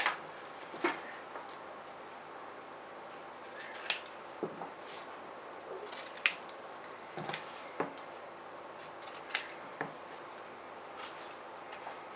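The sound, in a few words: scissors cutting fabric for a backpack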